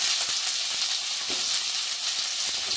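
Vegetables for veg pulao, with green peas and onion, frying in a pan, giving a steady, close sizzle with faint stirring scrapes throughout.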